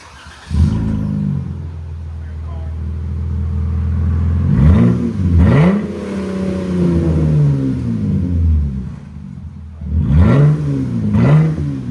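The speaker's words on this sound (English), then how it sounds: "So we're gonna start with the BIGBOZ muffler. The 5, they call it." A RAM pickup's 3.6L V6 with a BIGBOZ 5 muffler starts and idles steadily, then revs hard twice in two paired bursts separated by idle, each climbing and falling quickly, loud and close.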